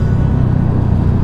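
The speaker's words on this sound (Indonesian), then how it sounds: "Ih, ada motor Pak Hendra." A motorcycle on the smooth, winding Kelok 1000 mountain road from Naringgul to Cidaun gives a steady, close, low engine rumble that stays even throughout, with no talk.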